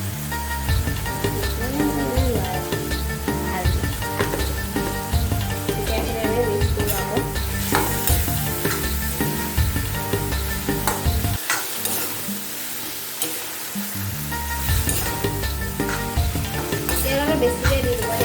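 Tomatoes with salt and turmeric sizzle and fry in a pan for a paneer masala, with frequent spatula stirring and scraping over a steady crackle that drops out briefly midway.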